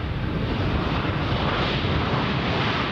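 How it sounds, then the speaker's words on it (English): An aircraft maneuvers on a runway in strong crosswind during a crosswind test, heard as a loud, dense, continuous roar of jet engine and buffeting wind that holds steady throughout with no voices. "the pilots perform a crosswind test and compete with the wind to maneuver the aircraft on the runway"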